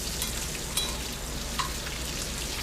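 Bacon frying in a skillet on an electric stove, a steady close sizzle and crackle with a couple of sharper pops, no talking.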